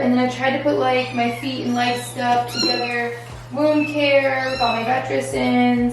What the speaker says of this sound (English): so if you guys hear the little kittens, those are what's crying here.